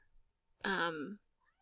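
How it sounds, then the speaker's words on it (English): A house cat gives a single clear, drawn-out meow lasting about half a second, close and distinct against a quiet indoor background. "that's my cat saying hi to you guys"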